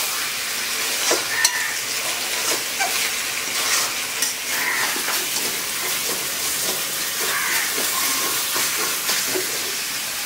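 Chicken kosha, country chicken, stir-fried in a pan: a loud, steady sizzle runs the whole time with repeated scraping stirs of the spatula, and no voices.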